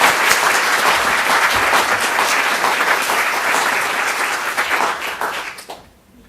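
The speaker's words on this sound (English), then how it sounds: "let's give all of our art contest winners a round of applause" A school board meeting audience applauds art contest winners, with steady, full clapping from a crowd in a hall that carries on evenly, then fades out quickly at the end.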